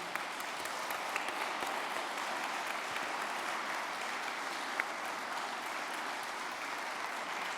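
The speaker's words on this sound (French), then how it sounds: "on peut peut-être les applaudir quand même pour tout le boulot" Faint, distant applause from an audience at a round-table discussion, steady even clapping held at a low level for several seconds without talk.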